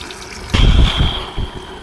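Water gushes into a van's water tank, a loud splashing rush that starts suddenly and keeps pouring with uneven surges, up close and with no talking.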